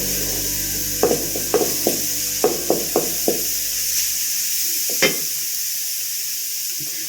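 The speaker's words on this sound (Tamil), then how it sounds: "தட்டி வச்சுருக்குறோம்ல, 5-6 பூண்டு, அதை போட்டுக்கலாம்" Crushed garlic cloves hit a hot frying pan, giving a close, loud hiss with a quick series of sharp sputtering pops that settles back into steady sizzling, no voices.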